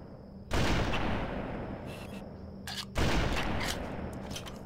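Gunfire in the video game Halo: two heavy, crackling bursts a few seconds apart, each slamming in loudly and then rattling on with scattered sharp shots before tailing off.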